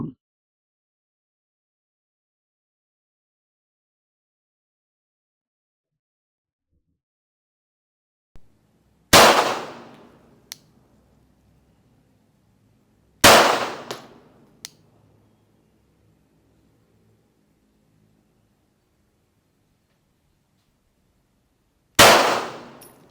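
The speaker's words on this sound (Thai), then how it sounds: "ลองยิงให้ดูเลยแล้วกันนะครับ สักสามนัดนะครับ" Three pistol shots fired during a test of anti-slip grip tape, each a sharp loud crack with a ringing tail, spaced several seconds apart after a faint click, with quiet between them.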